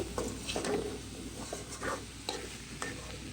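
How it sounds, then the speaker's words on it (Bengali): Broccoli with potato and carrot frying in a pan, giving a steady soft sizzle broken by several scraping stirs of a spatula at close range, with no talking. "এখানে আমার এই যে ব্রকলি ভাজিটা হচ্ছে"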